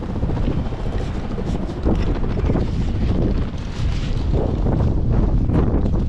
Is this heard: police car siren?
no